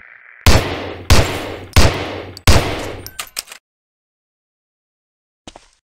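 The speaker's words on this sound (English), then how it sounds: "Try a couple of shots on that target with your 45." Four sharp .45 pistol shots fired at a target in the Medal of Honor: Allied Assault training range, evenly spaced and loud with ringing tails, followed by a few quieter mechanical clicks and a lone faint thud after silence.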